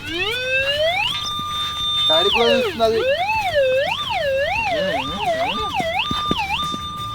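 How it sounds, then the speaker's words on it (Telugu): A loud, close ambulance-style siren: a steady high tone, then a fast wavering yelp that swoops up and down before settling back to a steady pitch. "అంబులెన్స్"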